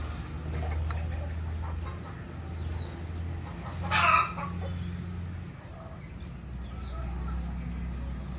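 Desi village hens cluck softly in a farmyard while being fed homemade calcium balls, low intermittent clucks with one brief louder call in the middle, quiet and slightly distant.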